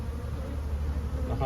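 Agitated honeybees bottled up in a hive that is initiating a swarm buzz in a thick, steady low drone close at hand, heard alone without speech.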